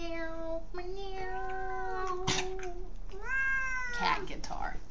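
A frightened cat yowls in long, drawn-out wavering cries, close by and fairly loud, with a short sharp burst in the middle and people talking over it.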